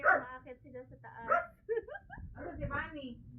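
Several dogs at a house bark repeatedly in short bursts while people talk over them nearby.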